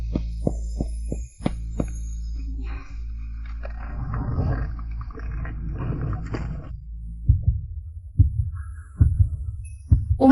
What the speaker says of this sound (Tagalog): Bakit ganito ang tibok ng puso ko?